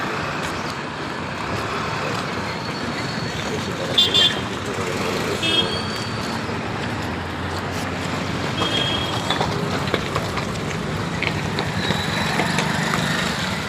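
Busy roadside traffic at a bus stop in Odisha during the Diwali season, with cars, trucks and buses rushing past close by in a continuous roar and a few short horn toots cutting through.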